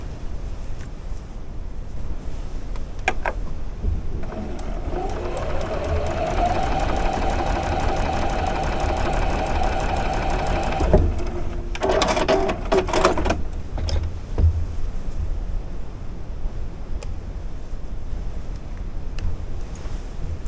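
A sewing machine stitches a quilt block seam, its steady mechanical whir running at an even pace for several seconds, then stopping, followed by a few brief clatters and quieter handling sounds.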